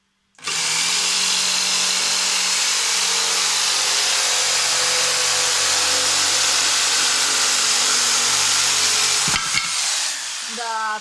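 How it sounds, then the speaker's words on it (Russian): Power saw cutting through drywall indoors for a DIY fireplace build, a loud, close, continuous whining buzz that runs steadily for about nine seconds before winding down. "будет пилить первый раз в жизни гипсокартон"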